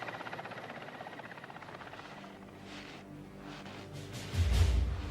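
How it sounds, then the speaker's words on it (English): A helicopter's rotor thrums steadily at a distance, growing louder and heavier toward the end as it draws nearer. "The helicopter races back to refuel."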